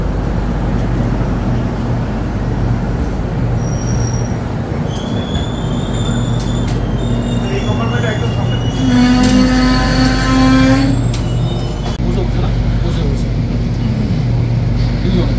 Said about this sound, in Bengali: ট্রেন আমাদের জলপাইগুড়ি রোড ছাড়লো